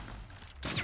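A short burst of Splitgate gunfire, rapid heavy shots cracking out after a brief rumbling lead-in, fairly faint overall and without speech.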